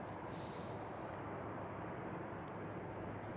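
A KLM jet at Schiphol Airport produces a steady, broad engine roar that holds level the whole time, heard from a distance at a planespotting spot in a parking garage.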